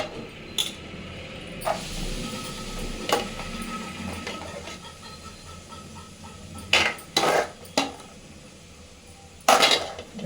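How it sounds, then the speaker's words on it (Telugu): Grated cabbage fried in a pan after grated carrot, for egg noodles, with metal utensils scraping and clinking against the pan in scattered sharp bursts over a low sizzle. "నెక్స్ట్ ఇందులో క్యాబేజీ వేసి వేయించుకోవాలి"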